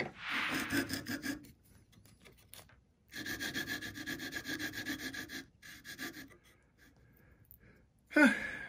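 Sandpaper glued to a paint paddle rubs back and forth over a hand-carved wooden Christmas tree decoration in steady close bursts, with pauses between them and a breath or sigh near the end.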